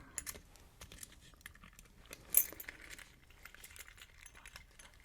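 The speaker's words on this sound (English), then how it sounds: "And what better place to keep your driver's license than with your car keys?" Car keys jangle and clink against the metal key hooks of a vintage 1964 Stern's Department Store billfold, in soft, close, scattered rattles with one sharper clink midway and no talk.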